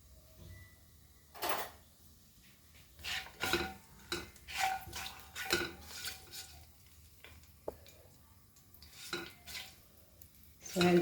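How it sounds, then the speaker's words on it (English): Onion and tomato saute in a pan for Goan beef arroz, with a quiet background sizzle broken by repeated scraping stirs and clinks of a utensil against cookware at an irregular pace. "saute this up."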